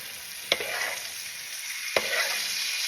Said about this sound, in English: We'll do one more round of basting.